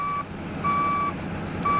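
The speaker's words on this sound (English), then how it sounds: "never use a machine with a malfunctioning backup alarm" Backup alarm on a mining haul truck reversing: three loud, clear electronic beeps, each a long steady tone separated by short gaps, over a low engine rumble, with no talk.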